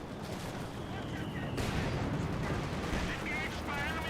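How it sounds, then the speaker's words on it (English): An incendiary bombing run in the video game Company of Heroes 2, a faint, continuous rumble of blasts and crackling fire with a sharper burst partway through. "We do have got the bombing run. Yep, there is a bombing run."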